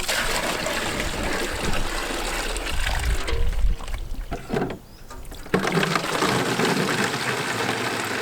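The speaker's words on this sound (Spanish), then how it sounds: "Pero bueno, vamos a sacar agua." Water being drawn from a cistern, a continuous splashing, pouring rush that dips briefly in the middle and then resumes, close by with no talk.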